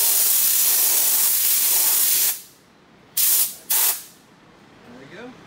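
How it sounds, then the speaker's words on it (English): An air hose blows loose flakes out of a freshly hot-stamped disc, a long loud hissing blast that cuts off, followed by two short sharp bursts and faint background noise. "you can use this air hose and blow out some extra flakes throughout it"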